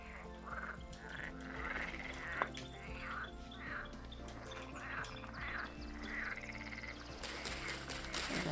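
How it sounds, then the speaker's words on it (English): Loud, repeated frog croaks in the video game Riverworld, a rhythmic chorus of throaty calls about every half second, steady against low ambient noise, with no talking. "And once again, the deafening frogs."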